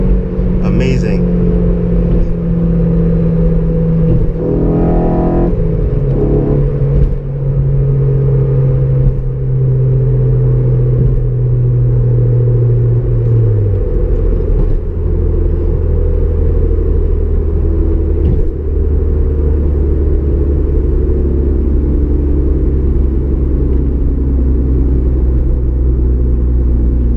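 Loud, close engine drone from inside a 2009 Honda Civic Si with VTEC, its pitch climbing and then dropping at gear changes under a constant road rumble.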